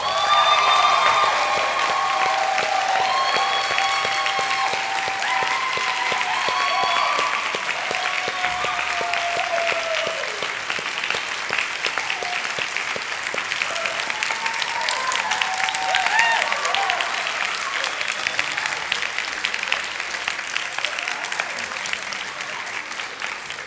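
Sustained audience applause fills a graduation ceremony in Stevenson Hall, a broad even clapping that carries on for many seconds, with faint cheers and some talking heard through it.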